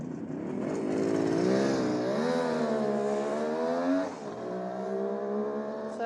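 Close, loud engine of a 1971 Kawasaki H1A 500 Mach IV motorcycle, freshly rebuilt, revving in repeated swells that climb and fall before settling into a lower, steady running note.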